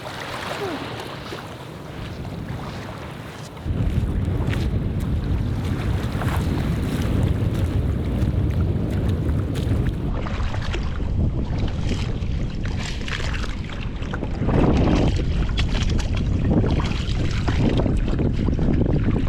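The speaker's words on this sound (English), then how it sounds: "It's windy." Steady wind roaring and buffeting the microphone, with water washing alongside, continuous throughout and growing louder partway in, while sailing near a coral island.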